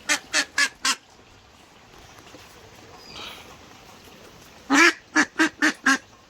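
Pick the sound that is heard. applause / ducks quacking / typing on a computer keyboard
ducks quacking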